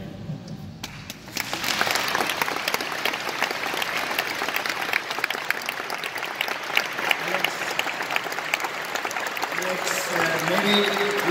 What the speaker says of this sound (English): you always got a big round of applause for what you were saying